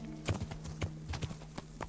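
Horse hooves clopping along in the medieval game Kingdom Come Deliverance, a steady run of hoofbeats on rough, bushy ground, fairly close and clear against a low background hum.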